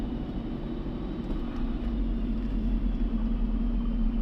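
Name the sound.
engine running at about 1100 RPM during tuning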